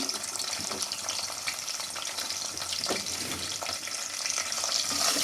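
Dried red chillies and mixed tempering seeds frying in hot oil for a gongura meal maker curry, giving a steady, close crackling sizzle that swells slightly toward the end, with no talking.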